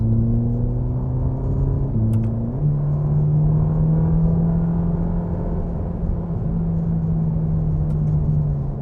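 2024 Ferrari Roma engine droning steadily while driving, a loud sustained rumble with a brief dip in pitch, as during a gear change, then holding a steady tone.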